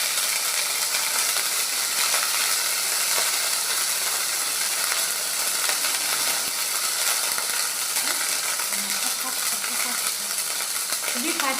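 Ginger paste frying in a pan for jeera rice, giving a steady, even sizzling hiss throughout with a few faint clinks near the end.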